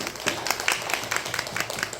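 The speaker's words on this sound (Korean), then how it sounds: "우리 같이 우리 모두에게 환영의 박수를 치시기 바랍니다." A church congregation applauds in a dense, steady burst of many hands clapping together, filling the room at moderate loudness.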